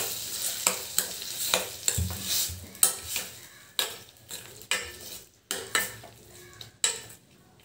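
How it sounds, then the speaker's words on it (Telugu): Ground mango chutney (pachadi) is stirred in a pan. A spoon scrapes and clinks against the metal in regular strokes over a soft sizzle, close and fairly loud, with no voices. "మనం గ్రైండ్ చేసుకున్న మ్యాంగో పచ్చడి ఇందులో వేసేసి ఇలా కలుపుకునేద్దాం"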